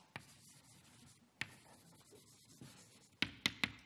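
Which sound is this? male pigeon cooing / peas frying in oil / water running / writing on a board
writing on a board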